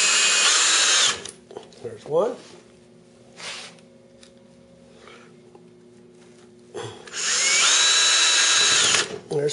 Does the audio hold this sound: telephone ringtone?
no